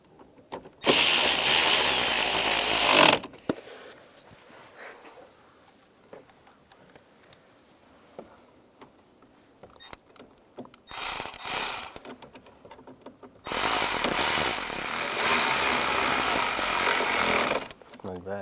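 Screws are driven in with a power tool under the heater and A/C control panel of a 1999-2005 Volkswagen Jetta, in three loud, steady whirring bursts: a long one, a short one and another long one, separated by quiet, faint handling noises.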